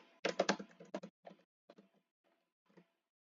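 Someone types notes on a computer keyboard, a quick dense burst of clacking keys that thins into sparse, softer taps and stops, close and clear in a quiet room.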